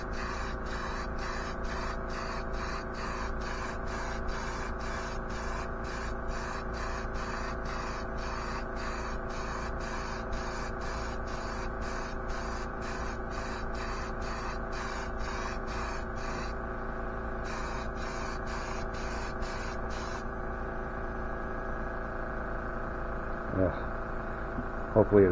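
Satin clear coat sprayed from an aerosol can onto an exhaust pipe, heard as a long series of short, evenly repeated hissing bursts over a steady background hum, with a few brief gaps and a final quiet stretch.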